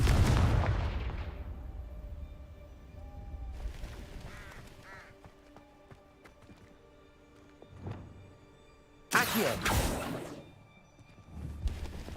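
Confringo blasting spells explode in Hogwarts Legacy, with a loud burst at the start, a softer one near the middle and a sharp, heavy blast toward the end, separated by quieter game ambience.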